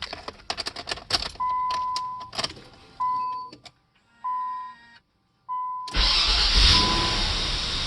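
A 2000 Nissan Maxima, fresh from a starter replacement, gives several short chimes and clicks, then the engine cranks and catches, settling into a loud steady run.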